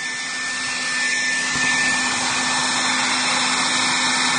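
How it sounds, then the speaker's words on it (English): A hair dryer blows hot air onto crayons laid on paper, a constant close whooshing drone with a steady motor whine that holds evenly throughout. "You're just going to take by your blow dryer and blow it on there."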